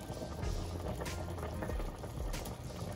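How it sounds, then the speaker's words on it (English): Boiling liquid is ladled out of a pot of African catfish okra soup, with steady bubbling and liquid sloshing and pouring up close, and a couple of brief louder splashes. "Take some liquid out like so,"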